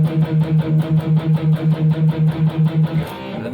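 Palm-muted distorted electric guitar riff from a metal remix of a King of Fighters '96 theme, playing a steady chugging rhythm of short, even repeated low notes for about three seconds before ringing out, loud and alone.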